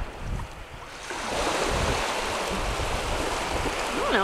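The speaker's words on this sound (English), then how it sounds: "This is the Columbia River." Water of the Columbia River near Seaside, Oregon, a steady broad wash of surf and flowing water that swells after the first second, with wind buffeting the microphone and a faint voice in the background.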